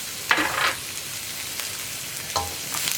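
Chopped onion and green chili drop into hot vegetable oil in a pan, giving a soft, steady sizzle with a couple of brief louder hisses and stirring scrapes.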